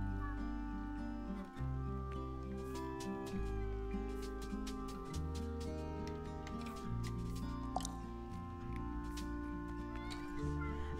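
A cat meows in the cozy island game Cozy Grove over a plucky, bouncing music track. Several short mews sit under the steady tune for the whole stretch.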